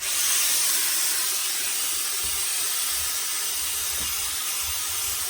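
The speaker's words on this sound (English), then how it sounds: "so we're up to steam, so let's put some steam on" Steady, loud hiss of steam pouring from a steamer onto a nutria fur fedora, continuous and broadband with a faint low rumble beneath, no talking.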